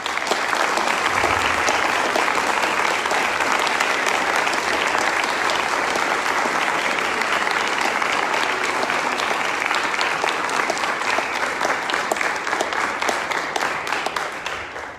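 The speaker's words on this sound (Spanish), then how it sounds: "a los cuales recibimos con un caluroso aplauso." A large crowd applauds warmly and steadily, a dense wash of clapping that carries on without pause before tapering slightly at the end.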